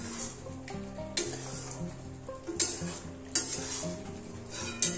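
Posto chicken sizzles in a pan while a utensil stirs it, with sharp scrapes and clinks against the metal over a steady fry.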